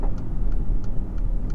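A 2017 Mercedes GLE43 AMG's engine hums in a low, steady rumble while driving, heard from inside the cabin with a faint rhythmic ticking above it.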